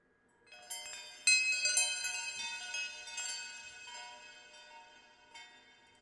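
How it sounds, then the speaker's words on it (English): Metal chimes ring out in several overlapping strikes, bright tones that shimmer and slowly decay, heard alone and close. "We even got some wind chimes in there."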